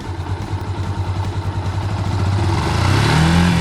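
A manual-clutch motorcycle in first gear pulls away slowly, its engine a steady close thrum whose pitch and loudness rise gently as the clutch is let out, with no voices over it.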